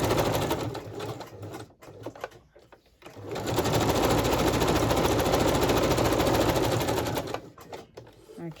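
Domestic sewing machine stitching fabric tucks: fast mechanical needle chatter that starts and stops in short bursts, then runs in a long steady stretch before stopping again, close up with no talk.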